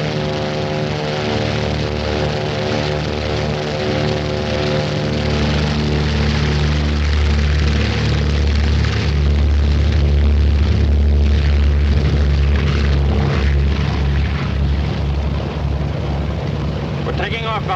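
A WWII bomber on the 1942 Doolittle Raid takes off, its piston engines and propellers roaring in a loud, steady drone that builds slightly over time, with wind rumble mixed in.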